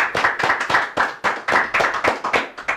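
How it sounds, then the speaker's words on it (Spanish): Rhythmic hand clapping from a small group for a man named Manuel La Trampa, close and loud with uneven bursts of claps, no talk. "Quiero recibir un fuerte aplauso."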